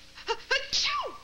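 A person sneezes once up close in a sitcom scene, a couple of quick drawn-in breaths building to a sharp burst that trails off with a falling vocal tail.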